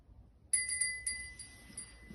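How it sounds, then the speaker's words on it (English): A small classroom bell rings with several quick, bright tinkling strikes that ring on and fade, faint and alone in a quiet room. "we can ring this little bell"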